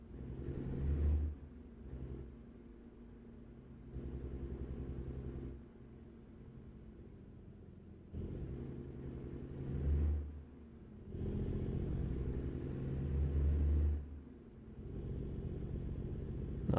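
A truck in American Truck Simulator drives off on the Montana map, its engine rumbling low and rising in several revving surges that swell and ease over the stretch, with no talk.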